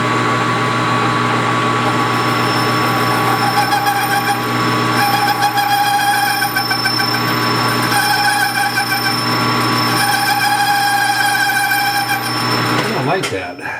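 A lathe cuts a Kerzel flywheel with a continuous, loud metallic ringing squeal and motor drone that holds steady for over ten seconds before the cut ends, with a voice speaking over it.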